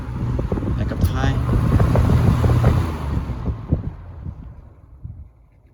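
A K-223 fan with swapped 3723S blades running on high, giving a loud, steady whooshing roar with a faint scratching from the blades before it winds down and fades near the end.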